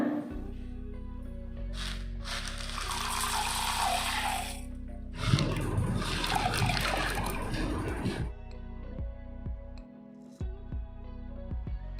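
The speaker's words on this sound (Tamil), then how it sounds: "21 சுண்டலையும் நான் இப்போ ஊற போட போகிறேன்." Water poured from a vessel over dried legumes for soaking sundal, two splashy gushes a few seconds apart, close by, followed by light clinks and handling noises.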